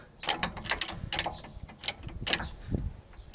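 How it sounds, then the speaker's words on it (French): A car jack being pumped under a pickup truck makes a quick series of ratcheting mechanical clicks and clanks, close and irregular. "là, mon cric pompe plus très bien"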